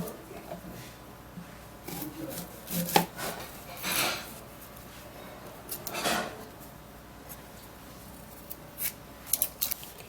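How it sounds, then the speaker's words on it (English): A knife cuts an onion into tiny pieces. The close, uneven chopping taps and scrapes come in scattered bursts with short pauses between them. "So what you do is to cut the onion in very tiny pieces."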